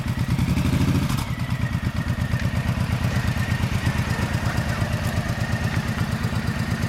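A 2013 or 2014 Suzuki Boulevard C90 1500cc cruiser motorcycle idling up close, a steady loping low throb with even rhythmic pulses, a brief louder burst at the start settling into a constant idle.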